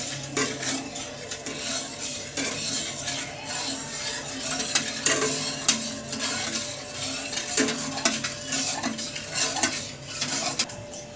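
Sugar being stirred in a pan for homemade ice cream, a steady close scraping and swishing with clinks of the utensil against the metal and a constant faint hum underneath.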